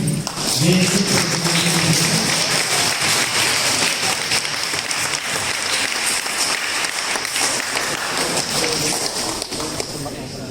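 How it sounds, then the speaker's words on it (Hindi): Guests at a church wedding blessing applaud loudly for the newlyweds, a long steady wash of clapping lasting about ten seconds, with a voice briefly audible near the start. "जोर से ताली बजाते हैं"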